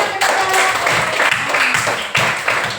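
A classroom audience at a sociology lesson breaks into brisk, close applause, bursts of clapping rising and falling with voices mixed in.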